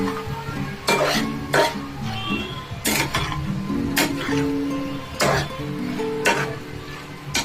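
Soybeans being stirred with vegetables in a pan for a pumpkin, potato and soybean curry, with repeated scraping, clattering strokes of a spoon against the pan over a steady low sizzle.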